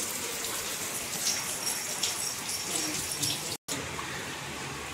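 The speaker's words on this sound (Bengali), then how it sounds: "দেখি বৃষ্টিটা হঠাৎই চলে এলো।" Heavy morning rain pours down steadily, a dense, even hiss of drops with faint splashes, continuous throughout with one very brief dropout near the end.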